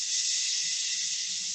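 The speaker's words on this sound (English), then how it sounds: "we're going to completely empty the lungs using an SH sound" A steady, forceful "shh" exhale during a yoga breathing exercise, pushing air out to empty the lungs. It sounds as one continuous close, loud hiss lasting the whole moment, with no talking.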